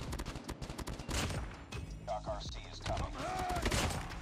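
Type 25 assault rifle in Call of Duty Mobile, firing rapid automatic bursts close by with sharp repeated cracks and a few pauses, as someone talks over the gunfire.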